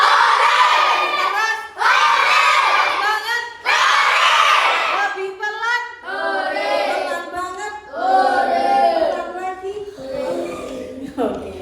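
A grade 6 class of children in a classroom shouts "hooray" loudly in unison, several bursts of cheering voices following one another, close and energetic.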